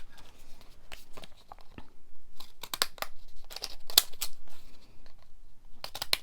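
Scissors snip through paper scraps and ephemera in a sequence of sharp, irregular cuts with rustling and crinkling between them, fairly close and moderately loud, with no talking.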